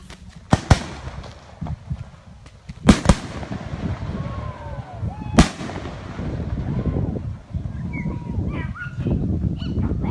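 Fourth of July 2016 fireworks over Big Birch Lake in Grey Eagle, Minnesota: several loud booming bursts spaced apart, with crackling and lingering rumble between them and faint voices in the background.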